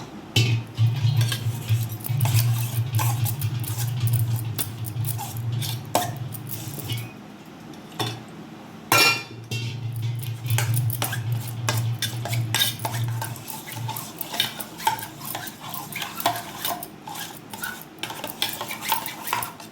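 Thick yogurt being mixed with a little water in a bowl, close clinking and scraping of a spoon against the dish in quick irregular strokes, with a low steady hum underneath for long stretches.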